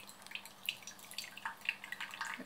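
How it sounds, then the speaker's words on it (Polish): Aquarium water drips slowly and irregularly from a squeezed travel water filter, soft plinking drops over a faint steady background hiss. "Widać, że leci tak powoli, trzeba dość mocno ścisnąć."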